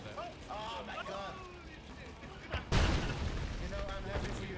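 A French cannon fires in the Red Alert 2 real-time strategy game: one heavy, booming blast partway through, followed by sustained rumbling battle noise, all under people talking over layered game sounds.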